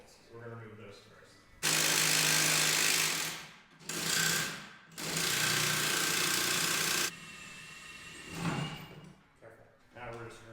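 A wrench removes the 16mm and 18mm shock bolts on a MK4 Volkswagen Jetta, with three loud, close bursts of rattling mechanical whirring, the longest about two seconds. Brief talk is heard before and after the bursts.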